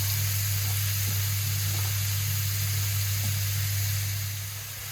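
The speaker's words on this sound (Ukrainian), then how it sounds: "Кидаю на сковорідку і цибульку," Chopped onion and carrot fry in olive oil in a pan, giving a steady, close, even sizzle with a low hum beneath it and no talking.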